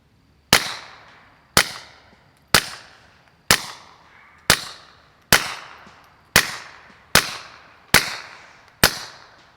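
Ten evenly spaced suppressed .22 pistol shots from a Sig 322 fitted with a Nyx Mod 2 suppressor, each a sharp crack with a short decaying tail, roughly one per second, close and clear with no talk.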